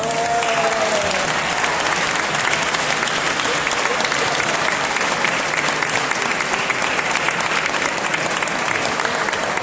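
Sustained applause from an audience at an exhibition opening, dense steady clapping that fills the whole stretch without letting up and stays loud from start to finish.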